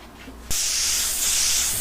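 Compressed air bursts out of a leak in a pressurized solar-heated water tank, a sudden loud hiss starting about midway and holding steady and close after a quiet lead-in.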